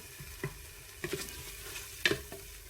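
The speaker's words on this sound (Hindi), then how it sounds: "अब हम इस मसाले को अच्छी तरह भून लेंगे।" Spice masala being roasted in a pan for green peanut lentils, a faint low sizzle with a few soft spatula taps and scrapes, quiet and close.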